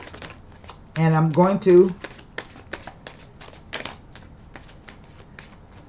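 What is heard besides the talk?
tarot cards being shuffled and riffled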